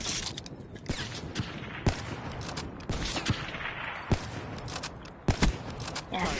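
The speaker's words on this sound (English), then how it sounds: "Bring out the SVG, maybe get a little more damage" Sniper rifle shots ring out in a 1v1 sniper match within a video game, several sharp cracks spaced irregularly over a busy, noisy background.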